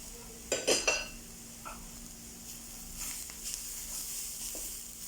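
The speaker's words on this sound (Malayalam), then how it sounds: "എല്ലാം കൂടെ നല്ല രീതിയിൽ ഇളക്കിയെടുക്കുക" Chicken stirred with garam masala and spice paste in a bowl, a burst of clinking utensil-on-bowl scrapes early, then quieter soft stirring and occasional light knocks.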